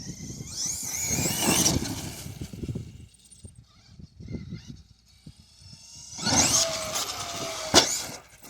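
A Traxxas E-Revo 2.0 electric RC truck launches off a ramp and pulls a wheelie, its motor whining up in two loud bursts with a quieter stretch of rolling between, heard outdoors with no talk.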